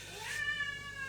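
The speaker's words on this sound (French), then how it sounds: "regardez ce chat qui fait que gueuler, regardez-le" A cat lets out one loud, drawn-out meow that rises and then holds, close and clear, with no voices.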